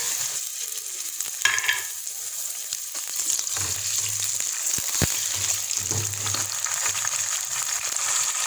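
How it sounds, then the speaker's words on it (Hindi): Steady sizzling and crackling of half a kilo of chicken frying in a pan, with occasional stirring scrapes and a brief clink, close and continuous. "हमारा जो चिकन है हमने अभी डाला था वो भी फ्राई हो गया है।"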